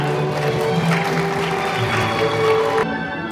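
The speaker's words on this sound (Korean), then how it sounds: "화축의 불이 밝혀질 때 뜨거운 박수 다시 한 번 부탁드리겠습니다." Guests at a Korean wedding ceremony applaud as the families light ceremonial candles, a dense, steady wash of clapping across the hall that cuts off abruptly near the end, with music faintly beneath.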